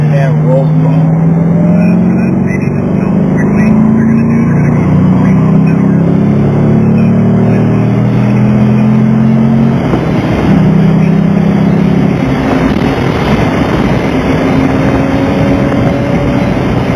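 Race car engine on a road course at The Ridge Motorsports Park, a steady droning note rising as the throttle is rolled on, loud and continuous with an instructor's voice coaching over it.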